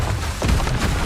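A Confringo spell blast in Hogwarts Legacy, a single short booming burst with a dull thud, loud and close amid game noise.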